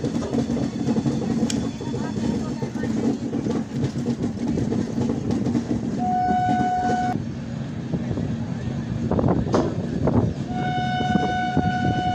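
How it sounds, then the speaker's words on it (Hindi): A passenger train passes on an Indian railway line near Katihar junction, with a sustained rumbling roll of wheels and carriages and two long horn blasts, loud and close throughout. "ये एक पैसेंजर ट्रेन थी"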